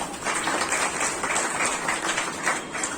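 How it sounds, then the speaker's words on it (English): Sustained applause from a school audience at an Independence Day celebration honouring a class 10 student's exam score, a steady dense wash of clapping filling the whole stretch without a break. "A huge round of applause, please"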